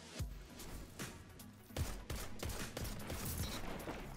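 Sniper rifle fire in the Destiny 2 video game comes as a series of sharp, fairly faint shots in irregular succession amid game effects.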